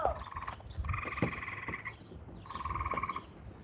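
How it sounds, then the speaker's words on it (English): Tree frog croaking close by outdoors, two loud bursts of rapid pulsed trilling, each about a second long, with a short gap between them. "Is that a tree frog?"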